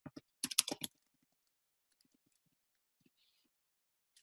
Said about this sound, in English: I would type in Tulsa Young Professionals.